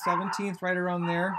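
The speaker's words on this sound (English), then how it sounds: "Sorry about the dogs barking." Dogs bark loudly and close by in a couple of drawn-out, harmonic yelps, overlapping someone talking indoors.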